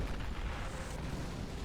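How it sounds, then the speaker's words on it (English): Artillery in the Company of Heroes 2 video game pounds a mortar bunker, producing a dense, continuous rumble of overlapping blasts that fills the whole moment at moderate loudness. "You're seeing a repair bunker coming out and more artillery coming down on the mortar bunker."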